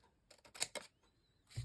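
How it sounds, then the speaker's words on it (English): Scissors cutting a straight line to trim a paper picture for a craft cover: a handful of soft, close snips in a quick run, a short pause, then one more cut, all faint and with no talk. "But we need to trim off right about there. As long as I cut a straight line."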